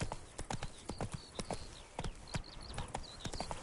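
Roach, Geralt's horse in The Witcher 3, gallops with a quick, even clip-clop of hooves throughout, while chirping bird calls sound in the background and no one speaks.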